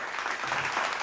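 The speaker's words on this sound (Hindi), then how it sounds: "ज़ोरदार तालियों से" Applause from a seated audience at a televised Urdu poetry recital, a brief, dense patter of many hands clapping at moderate volume, heard alone without talk.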